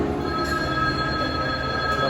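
A train at the renovated Ratnagiri railway junction station, with steady metallic wheel squeal and ringing tones over a dense rumbling background, loud and continuous throughout.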